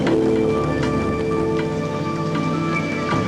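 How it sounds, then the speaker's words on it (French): Steady rain falls at the Silverstone circuit during the 2002 British Grand Prix, a dense continuous hiss with scattered drips, under faint tonal hum. "Et la pluie, qui est une menace permanente."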